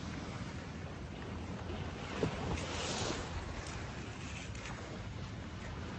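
Sea waves breaking on the beach at Na Jomtien, Pattaya, heard beside a seaside campsite as a continuous rushing surf roar mixed with gusty wind buffeting the microphone, one slightly stronger wave surge midway, no talk.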